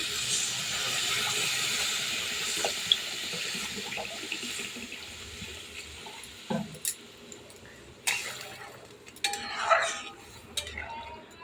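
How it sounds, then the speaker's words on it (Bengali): Water is poured into a pot of fried taro, lentils, green chili and ground cumin, a steady rushing splash that later breaks into a few sharp clatters and sloshes of kitchen utensils. "এই দেখো এবারে জল দিয়ে দেবো।"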